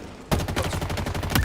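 Rapid bursts of needler fire from a video game shooter match, a fast rattling stream of shots that starts abruptly after a quiet moment and continues steadily, loud and close.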